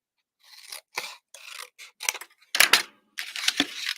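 Scissors snipping through paper in a crafting setting, a run of about seven short, crisp cutting bursts close to the ear with brief gaps, ending in a longer stretch of cuts, no voices.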